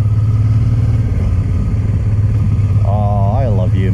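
Motorcycle engine while riding on a road trip crossing from France into Spain, a loud steady drone close by throughout, with a voice speaking over it near the end.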